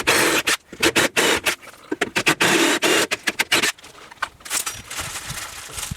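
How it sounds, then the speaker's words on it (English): A drill with a 25/64 bit boring out holes during a kids cot installation, heard as a run of short, harsh bursts broken by brief pauses, close and loud, with quieter scraping toward the end. "We'll now drill out to a 25/64."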